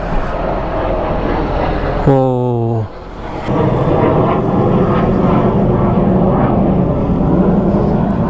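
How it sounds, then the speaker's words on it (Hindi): A fighter jet passing overhead near Goa airport, a loud continuous roar with a broad rushing drone. A short vocal exclamation cuts in briefly partway through while the jet noise carries on throughout. "there is a fighter jet"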